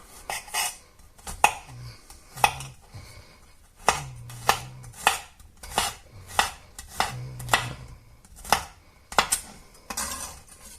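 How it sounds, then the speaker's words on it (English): A knife finely chops garlic on a board for seafood paella, making a regular run of crisp, close knocks that come in bursts of quick taps with brief pauses. "I'm going to finely chop the garlic up"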